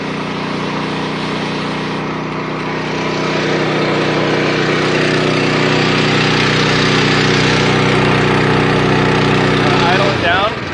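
A custom fire rescue vehicle's engine idles loudly and steadily up close. Its dense, droning rumble holds throughout and rises slightly partway, and a voice speaks over it near the end.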